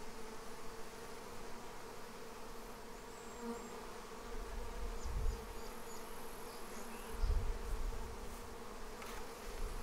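A swarm of honey bees being hived buzzes steadily and softly, a continuous dense insect hum with a couple of low thumps from handling the hive equipment.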